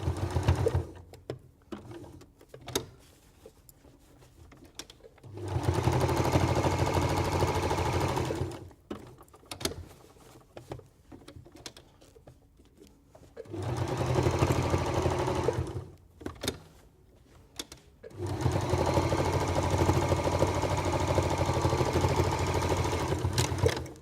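A sewing machine stitches quilted fabric while recovering an old oven glove, running in three long steady bursts of close, loud motor whir separated by quieter pauses of handling noise.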